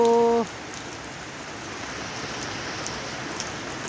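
Steady rain falls and patters on surfaces in an even, moderate hiss, with a brief tonal sound right at the start.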